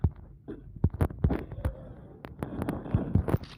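MP4 gunfire in the Free Fire mobile game comes as scattered sharp cracking shots in short irregular bursts over a low rumbling background, loud and close.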